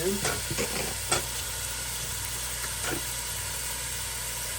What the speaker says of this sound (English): this ground turkey is going into my soup pot